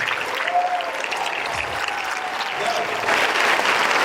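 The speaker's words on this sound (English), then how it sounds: "Would you please give her a round of applause, a thundering round of applause?" Audience applause at a banquet: a room full of steady clapping that holds throughout and swells louder toward the end.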